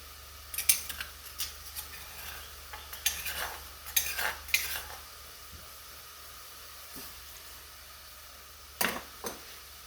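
Mushrooms cooking in a pan with scattered scraping stirs and brief utensil clinks over a low, quiet hiss, the strokes coming in short bursts separated by calmer stretches.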